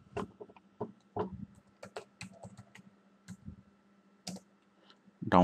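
Someone types a search into Google on a computer keyboard. Quiet, irregular key clicks come in short bursts and pauses, close by, and a brief louder sound follows at the end.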